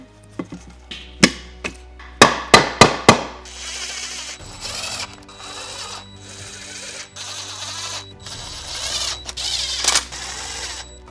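Cover being refitted onto a Range Rover part, with a series of sharp clicks and snaps followed by longer scraping and rattling handling noises, close and alone.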